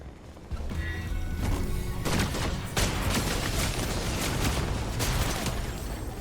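Rapid bursts of chaos exploder rifle fire in Fortnite crack and boom close by, mixed with impacts and small explosions in a dense, loud stretch of combat.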